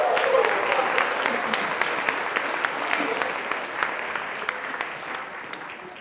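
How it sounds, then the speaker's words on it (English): Loud, sustained applause from a large audience at a Toastmasters District 80 Hall of Fame event, dense clapping that slowly thins out, with a few cheers mixed in. "So please applaud yourselves."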